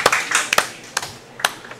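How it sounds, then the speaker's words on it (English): A small group in a barbecue restaurant gives a brief round of applause: a few sparse, distinct hand claps that thin out quickly. "Let's get a big round of applause for J&J for hosting us tonight"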